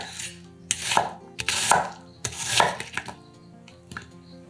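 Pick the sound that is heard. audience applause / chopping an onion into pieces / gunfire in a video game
chopping an onion into pieces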